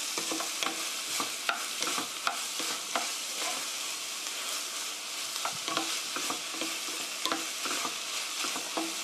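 Button mushrooms stir-fried in a pan without water, a bright continuous sizzle with repeated scraping stirs, close up and alone.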